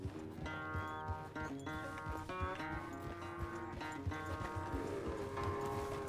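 Horse hooves clop in a steady rhythm in the Red Dead Redemption 2 video game on a ranch, set against sustained background music with a faint voice.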